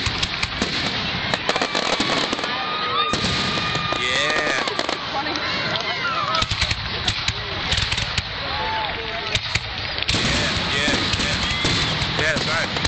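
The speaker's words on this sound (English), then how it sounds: "It's Independence Day, Highland, New York, in the Hudson Valley. Freaking fireworks." Independence Day fireworks in Highland, New York, in the Hudson Valley, burst and crackle in a dense, continuous barrage of loud pops and bangs, with voices audible in the background throughout.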